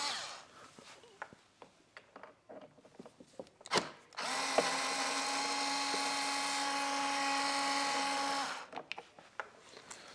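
A power drill runs steadily for about four seconds, removing a single bolt from beneath a car side mirror, with a short burst just before and scattered handling clicks around it.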